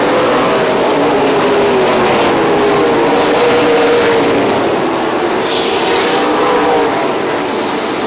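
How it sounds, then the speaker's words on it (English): Super late model stock cars roar past on a race track at a green-flag restart, a loud continuous engine drone with rising and falling pitch as the pack passes. "Green flag's out, we're racing."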